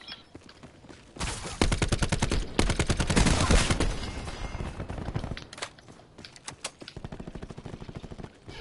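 Gunfire from the video game Call of Duty Black Ops 4, with rapid automatic bursts dominating the middle of the clip, then sparser, quieter shots and some footsteps toward the end.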